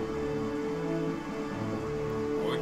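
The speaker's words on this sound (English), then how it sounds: "Oh, it's raining." Rain falls steadily in the video game The Legend of Zelda: The Wind Waker, a dense constant hiss of drops mixed with a sustained game tone, even and moderately loud throughout.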